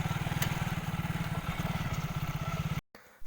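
A motorcycle parked beside a path near a hillside rice field chugs with a steady, rhythmic engine pulse close by, then cuts off abruptly near the end.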